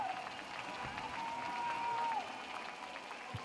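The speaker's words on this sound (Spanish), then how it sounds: "Se escucha el aplauso de todo el público." Steady applause from a large baseball stadium crowd at a Mexican League championship game, dense clapping throughout, with a thin sustained whistle tone sliding across the middle.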